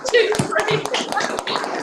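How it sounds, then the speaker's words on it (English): Scattered, uneven hand claps from people joining a virtual awards ceremony for entrants and winners, overlapping with talk throughout the short burst. "a thunderous round of applause for all of our entrants and all of our winners"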